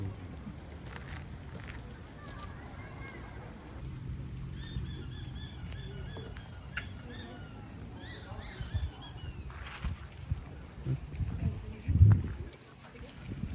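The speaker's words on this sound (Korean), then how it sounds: "새 소리인가 했더니 애기 신발 소리였어." Squeaky baby shoes that chirp like a bird, heard outdoors during a countryside stay near Fukuoka, Japan: a cluster of quick, high squeaks in rhythmic bursts midway, faint over soft ambient background with scattered murmuring voices.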